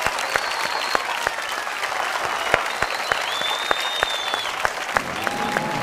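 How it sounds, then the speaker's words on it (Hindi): Studio audience on a Bhojpuri television quiz show applauds steadily, a dense, continuous clapping texture with occasional sharper claps, alone without talk. "जोरदार तालियां"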